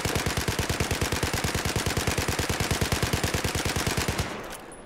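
An automatic weapon firing in Battlefield 4: one long, sustained burst of evenly spaced rapid shots lasting about four seconds before cutting off into a brief tail, loud and continuous with no talking.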